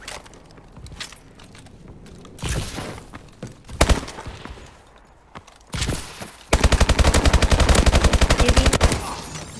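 Gunfire in Call of Duty Advanced Warfare gun game mode: scattered single shots and short bursts with footstep-like thuds, ending in a loud, sustained rapid automatic burst.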